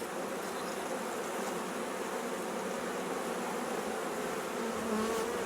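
Honey bees swarm and buzz steadily around an open three-deep, eight-frame hive at a farm, a dense continuous drone close by with no voices.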